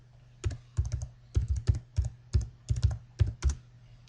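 Quick bursts of keystrokes tapped on a computer keyboard nearby, irregular clusters of clicks with short pauses between, no talking.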